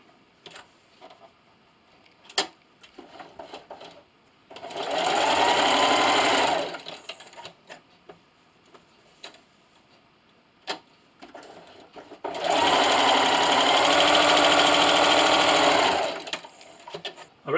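A sewing machine stitches quilting lines across a fabric glasses sleeve, running in two long steady bursts separated by quiet pauses with small clicks and handling noises.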